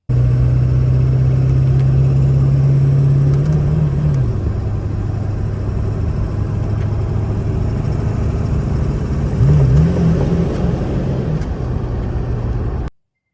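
A 1999 truck with a torque converter lockup fault driving steadily, its engine drone dropping and surging in pitch around four seconds and again near ten seconds as the lockup jumps, under constant road noise.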